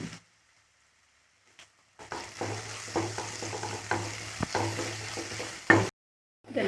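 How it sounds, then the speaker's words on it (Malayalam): Onions and spices sauté in a pan with salt and turmeric for chicken macaroni. Close sizzling frying and stirring scrapes follow a near-silent start, holding steady for several seconds before cutting off. "1/4 ടീസ്പൂണ് ഉപ്പ്, വീണ്ടും ടേസ്റ്റിനുള്ള അല്പം മഞ്ഞൾ ചേർത്ത് നന്നായിട്ട് വഴറ്റാം."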